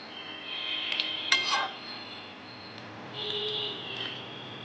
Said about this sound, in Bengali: এবার আমি সেদ্ধর জন্য এটাকে ঢাকা দিয়ে দেবো